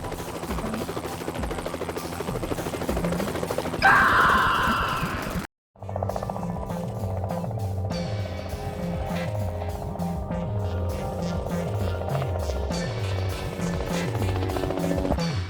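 Helicopter starting an airlift to move a polar bear, its rotor throbbing loud and steady, briefly dropping out before resuming with a rhythmic pulsing beat, no voices.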